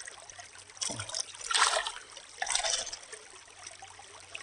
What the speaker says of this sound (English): So, cute little creek.